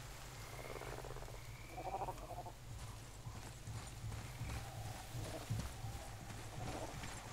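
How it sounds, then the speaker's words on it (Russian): Frogs croak in rhythmic, soft repeated clucks across a watery swamp area in the video game God of War, fairly faint against a steady ambient game background. "Классно сделали лягушек."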